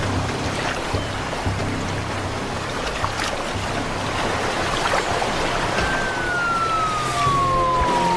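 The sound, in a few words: police patrol car siren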